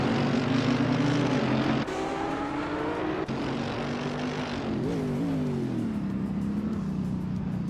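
A Ferrari 360 race car in a racing video game drones at high revs with a steady engine whine, shifting gears twice, then its pitch warbles and drops as it brakes into a corner, loud and continuous with no voices.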